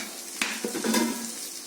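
Salt being stirred into pulusu, a tangy tamarind-style stew cooking in a pan: a few short spoon scrapes and knocks over a soft, steady simmering sizzle, close by, with no talking.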